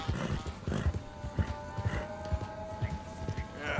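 Horse hooves clip-clopping in the video game Red Dead Redemption 2, a rapid uneven trot of sharp thuds close by, with a faint steady tone running underneath.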